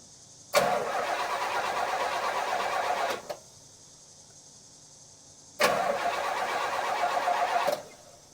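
A 1977 Pontiac Can Am engine cranks for its first start in two long bursts of steady, loud starter churning, each about two and a half seconds, separated by a quiet pause.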